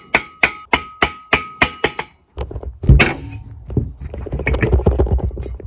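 A nail set tool taps a furnace inducer wheel off its motor rod: seven quick, sharp, evenly spaced metallic taps close by, then a clattering knock and loose rattling handling noise.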